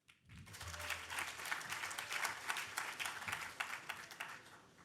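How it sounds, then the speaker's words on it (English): An audience at a hackathon closing ceremony applauds a finalist demo team, the clapping swelling in quickly and staying as a broad, even roar before tapering near the end. "let's give a massive round of applause to Framed"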